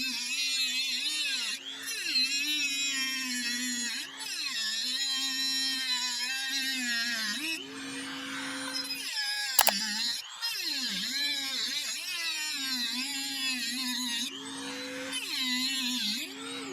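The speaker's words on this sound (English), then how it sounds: "So we're going to cut this bolt off, this one right here." A power tool, sounding like a small rotary cutter, cuts off an overlong bolt on a sailboat deck with a close, high, steady whine that dips in pitch under load and returns between passes, with a brief sharp click midway.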